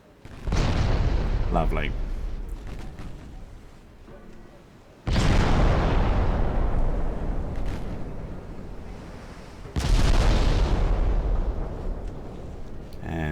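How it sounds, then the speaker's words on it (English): Heavy 10-inch naval guns fire in a strategy war game, three huge booming blasts spaced several seconds apart, each rolling out into a long rumbling decay, with a brief spoken remark between them. "10-inch guns are pretty brutal."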